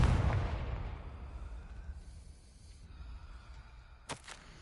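Confringo fire spell blasting in Hogwarts Legacy: a heavy boom at the start that rolls off into a fading rumble, followed by a short sharp crackle near the end.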